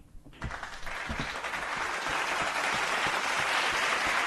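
Recorded applause sound effect played during a sports talk show, a dense wash of clapping that swells in after a brief quiet start and holds steady and fairly loud to the end, with no voices over it.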